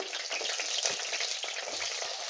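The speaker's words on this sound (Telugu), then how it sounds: "ఇవి మంచి ఫ్రై అయిపోయినాయండి మట్టిపత్రలో వండుకున్నప్పుడు సిమ్లోనే పెట్టుకోండి" Green chilies fry in a clay pot over low heat, giving a steady, dense, close sizzle with small crackles and pops and no talking.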